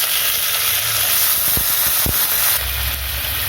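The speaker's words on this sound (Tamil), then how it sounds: "இந்த நேரத்தில் நம்ம தக்காளி போட்டுக்கலாம்." Chopped tomatoes go into onions frying in a pan for vatha kuzhambu, a steady close sizzle and hiss broken by a couple of short knocks of stirring.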